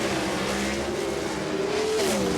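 Drag racing cars built by top engine builders accelerate hard off the line, a loud sustained engine roar with rising pitch that sweeps upward near the end, heard up close with no talk.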